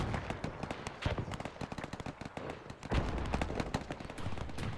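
Dense gunfire and artillery bombardment from the WW1 strategy game Between Empires. Rapid overlapping shots and bursts run continuously at a moderate level, with heavier thuds mixed in.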